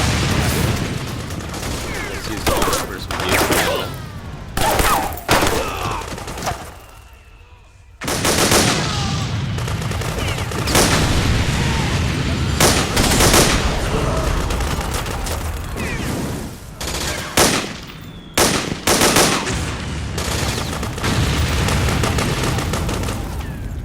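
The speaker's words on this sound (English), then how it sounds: "Time to switch to P90." Rapid bursts of P90 submachine gun fire in the video game Metal Gear Solid 4, loud and close, in repeated volleys amid a busy combat soundscape of other shots and explosions.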